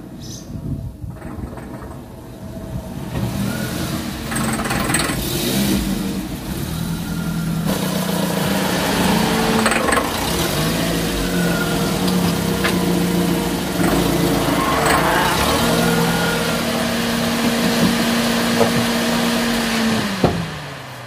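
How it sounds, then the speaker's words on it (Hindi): A drive shaft cross joint on a Changan Karvaan makes noise beneath a steady engine drone, with faint tonal whines and occasional clicks over about twenty seconds and no talking. "पहले आप क्रास शाफ्ट की आवाज़ सुन लें"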